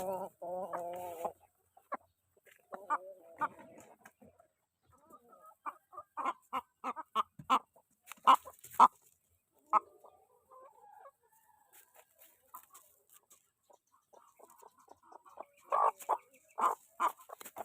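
Chickens cluck in scattered bursts, some close and loud, with short pauses of near silence between the flurries of calls.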